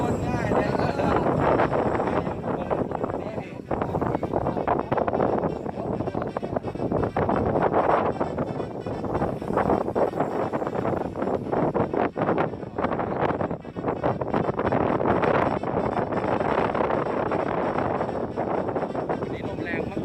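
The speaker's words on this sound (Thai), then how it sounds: "นี่ลมแรงมากๆครับ" Strong outdoor wind buffets the microphone in loud, continuous roaring gusts at a spot where a radio-controlled Catalina model plane with a 1.5 m wingspan is being flown.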